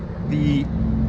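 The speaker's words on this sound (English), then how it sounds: "there's a bunch of trucks loading over there" Heavy vehicles, trucks being loaded nearby in a car auction yard, rumble as a steady low engine drone throughout, with a brief brighter mechanical burst near the end.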